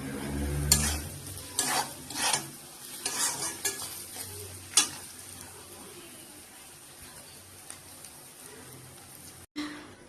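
Noodles with egg, tomato ketchup and sauces stir-fried in a pan, with several bursts of scraping and tossing over a soft sizzle, then a quieter stretch of frying alone.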